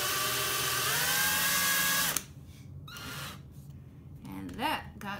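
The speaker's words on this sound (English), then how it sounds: "first attempt with the power drill." A power drill spins twister pliers to twist jewelry safety wire, making a loud, steady high whine for about two seconds before stopping abruptly. Quieter handling noise and a brief voice follow.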